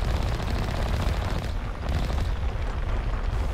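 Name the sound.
Mako vehicle machine guns firing in Mass Effect video game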